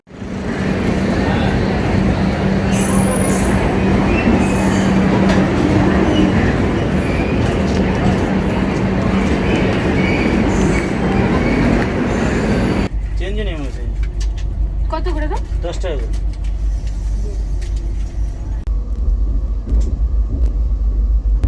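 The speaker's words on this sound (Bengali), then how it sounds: "বসে পড়েছি ট্রেনে আর এবারের যাত্রায় আমরা কিন্তু আছি সেকেন্ড ক্লাস এসিতে" Kamakhya Gaya Express train in a second class AC coach, a loud continuous rumble of the running train that shifts to a deeper, muffled drone partway through, with voices talking over it.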